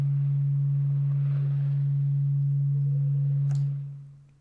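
A steady synthesized sine tone, used in a hypnotic techno project built in crusher-X, holds loud and unchanging on one low pitch with a faint airy texture above it, then fades out near the end.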